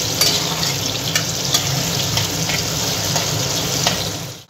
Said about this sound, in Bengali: আলুগুলো আমার ভাজা ভাজা হয়ে গেছে।